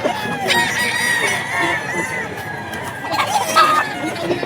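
Roosters crow repeatedly at a busy pet market selling fighting stags, the loud, strained calls overlapping with steady crowd noise and scattered clucking.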